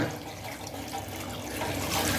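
Water poured steadily into a pot of potato curry, a continuous splashing rush that grows slightly louder toward the end.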